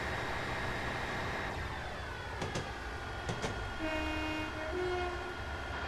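Diesel train horn sounding in the Train Simulator 2014 game on the Darlington to Bishop Auckland line, two short toots over a steady cab engine hum, with another train passing close by.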